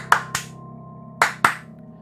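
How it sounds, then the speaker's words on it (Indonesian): Four sharp hand claps in a quiet restroom, paired as two quick claps, a pause of nearly a second, then two more, each with a short ringing decay against a low steady hum. "Saya pun tepuk tangan."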